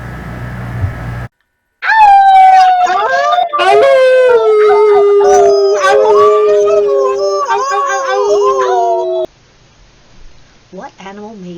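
Gray wolves at a sanctuary howl together in a loud chorus of long, overlapping wavering tones lasting several seconds, ending abruptly and followed by a few faint yips.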